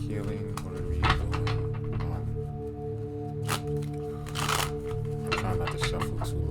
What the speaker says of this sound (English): Trying not to shuffle too loud for y'all guys.